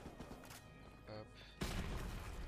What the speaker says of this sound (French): Oh putain, la grenade qui explose.